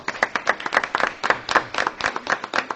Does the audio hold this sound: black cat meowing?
no